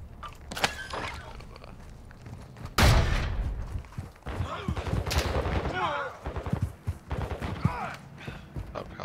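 Shotgun blasts in Warzone 2.0 gameplay, with a loud heavy boom near the middle followed by scattered shots and impacts, mixed with game effects and players talking over the action.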